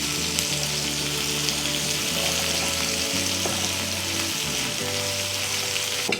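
Sliced onion frying in a pan for a stuffed brinjal curry, a steady, dense sizzle that holds at an even level throughout with a low hum beneath and no talking.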